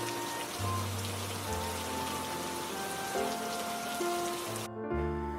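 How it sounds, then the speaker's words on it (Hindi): Steady rain falls and patters on surfaces in a continuous, even hiss, with faint background tones and no talking, then cuts off abruptly near the end. "अरे बारिश भी रुक गई।"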